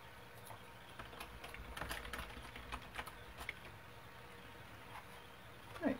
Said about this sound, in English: I just type in my thank you.